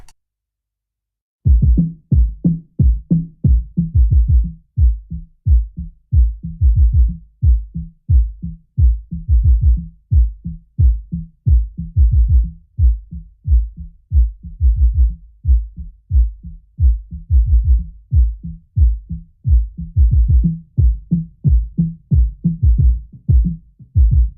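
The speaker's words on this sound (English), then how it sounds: "filter all the way down to just where the kick drum is" Kick drum from a new wave punk mix, soloed and filtered down to its low end, thumping steadily in a fast, even beat of muffled low hits that runs unbroken, loud and alone.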